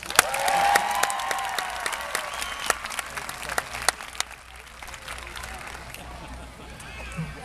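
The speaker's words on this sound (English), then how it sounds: "applause for Jancy and Knox" Outdoor crowd applause for the winning handler-and-dog team at an RCMP Sunset Ceremony, sustained and fairly loud at first, then gradually thinning, with scattered sharp claps and voices mixed in.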